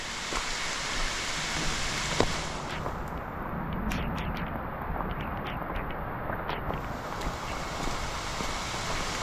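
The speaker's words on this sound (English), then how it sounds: "this is a heavy rain now." Heavy rain pours in a dense, steady roar on the Appalachian Trail in Pennsylvania, with scattered louder drops and splashes close by and no voices.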